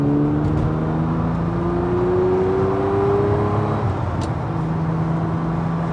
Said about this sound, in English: Up on the interstate, doing 90 miles an hour, no sweat, loping along, low RPM, high torque engine.